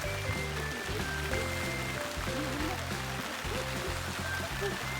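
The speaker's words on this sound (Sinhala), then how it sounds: "අද අපේ අවාසනාවට මේ පේනවද ගයිස් මේ වහිනවා" Steady rain falls outdoors on a sunflower farm, giving an even hiss through the whole stretch while people talk over it.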